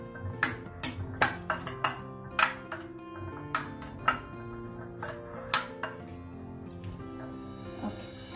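Peanut chaat being mixed in a bowl: irregular metallic clinks and ringing taps of a spoon against the bowl, moderately close, with some quieter scraping between the strikes.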